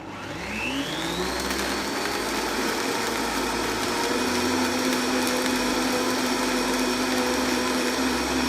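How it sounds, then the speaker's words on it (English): A countertop blender blends an orange while a tamper holds it in place, a loud, steady whirring motor drone that rises in pitch as it spins up and then holds constant throughout. "what I'm doing with the tamper is actually holding the orange in place so that it's not able to move around. That way it gets properly blended."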